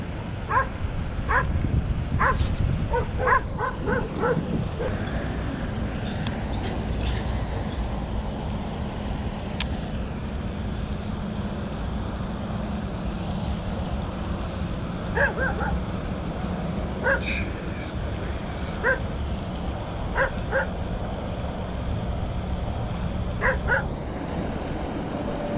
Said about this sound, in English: The dog's out here barking at me again.